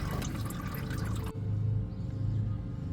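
Oil drips from the drain of a Toyota Highlander Hybrid during an oil change, a short burst of liquid pattering that cuts off abruptly into near quiet.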